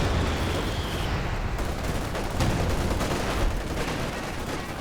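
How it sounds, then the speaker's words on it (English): Heavy artillery and gunfire rumble continuously through a Company of Heroes 2 4v4 battle, with a Brumbar tank among the firing units, the dense booms and crackles blending into a loud, unbroken barrage. "Brumbar's firing as well, I think."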